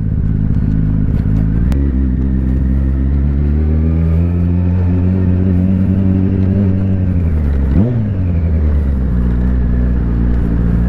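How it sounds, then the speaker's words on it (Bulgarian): Motorcycle engine running loud and close while riding, a steady low droning hum with shifting pitch, one brief dip and rise as the rider changes speed. "Вече съм на мотора и отивам да сменям гумите."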